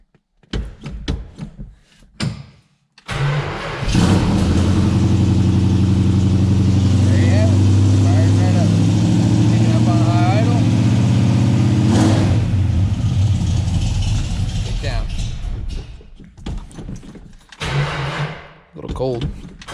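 A Scamp car sitting for 16 years cranks briefly and catches, then its engine runs loud and rough close by, with a steady throbbing drone that wavers and rises before easing off. Voices talk before the start and after.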